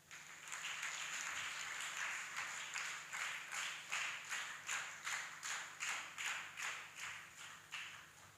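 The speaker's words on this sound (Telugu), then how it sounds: "అద్భుతం, గట్టిగా చప్పట్లు కొట్టండి." Audience at a novena gathering claps loudly, a dense wash of applause that settles into a rhythmic, pulsing clap pattern toward the end.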